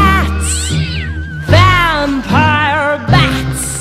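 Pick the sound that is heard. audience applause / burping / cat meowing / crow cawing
cat meowing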